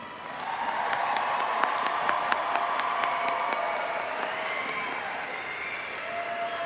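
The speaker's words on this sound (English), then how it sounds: "Let's please give them a round of applause." Applause from the audience at a technical college graduation ceremony, a soft, fairly distant patter of many hands with a few sharper claps standing out, fading gently toward the end.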